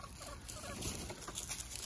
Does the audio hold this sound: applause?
no